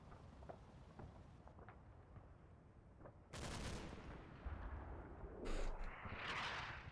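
Incoming artillery rounds in the WWII strategy game Combat Mission: Battle for Normandy: faint, distant crumps and thuds, then a few louder rumbling impacts and blasts that swell and linger.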